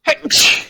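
A single sharp, close sneeze with a quick intake of breath before the explosive burst.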